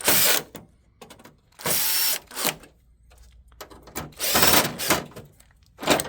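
A screw is driven into a Konica Minolta copier finisher unit, heard as several close bursts of whirring power-tool driving separated by short pauses, with clicks and rattles of parts in between.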